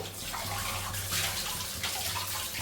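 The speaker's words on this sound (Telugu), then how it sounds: "ఇప్పుడు ఈ వాటర్ ఇలా వేసేసుకుంటున్నా" Water poured into a mutton curry cooking in a pan, a short steady close gush and splash with slight swells in loudness, no talking.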